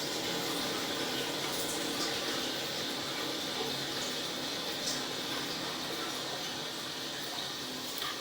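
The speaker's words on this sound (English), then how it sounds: "You can hear the water still running to fill the toilet up" Water runs steadily into a toilet tank as it refills, a constant close hiss of flow that holds at an even level throughout.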